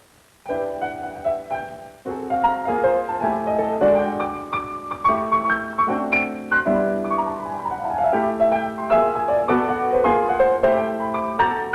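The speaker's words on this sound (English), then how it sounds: "cool progressive cat is playing it on the piano in Birdland" Jazz piano playing rich, shifting chords with busy melodic runs, a continuous solo performance that is bright and close, with no voices.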